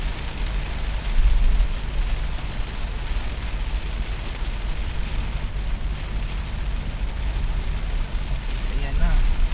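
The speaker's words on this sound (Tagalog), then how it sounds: "talagang ulan na ulan." Heavy morning rain pours down in a dense, continuous roar of wide noise that stays loud and steady throughout, with faint voices underneath.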